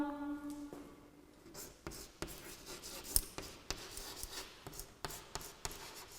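Chalk or pen writing on a classroom board or paper during an English lesson, a series of short scratchy strokes and taps spaced irregularly, close and fairly faint, with a brief voice at the start.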